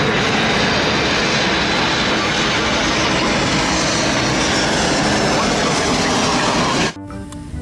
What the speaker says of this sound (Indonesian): Wah, yang ini ada sayapnya teman-teman. Ada pesawat terbang.